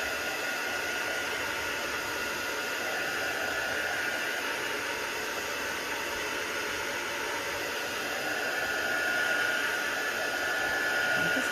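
A heat tool blows steadily to dry spray colour on a stamped card, a constant close whooshing hiss that runs unbroken the whole time with no speech.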